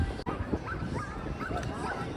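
A dog gives short barks and yips at a busy dog beach in Wildwood, New Jersey, heard close over crowd chatter and outdoor bustle.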